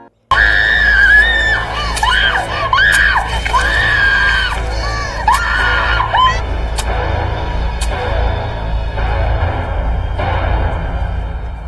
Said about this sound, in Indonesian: kok tiba-tiba teriak